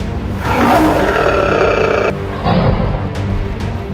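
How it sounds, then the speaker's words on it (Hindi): A lion gives a loud, close, rough roar lasting about two seconds, then a second, shorter rumbling roar over a steady background. "एक दहाड़ जो फाइटर जेट की आवाज को चैलेंज करती है।"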